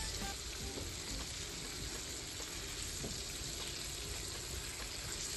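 Pork fillet frying in a pan gives a steady, dense sizzle close by, unbroken for the whole stretch with faint crackles on top.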